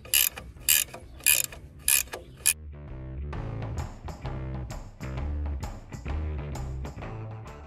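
Bolts loosened and removed from a Dana 60 axle during teardown: four sharp ratcheting bursts up close, followed by a sustained, varying mechanical whir.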